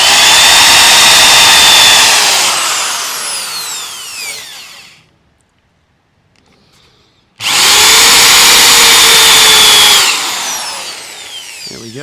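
A loud power drill bores out 100-year-old rivets in two close, sustained high-pitched bursts, separated by a few seconds of near silence, each winding down at the end.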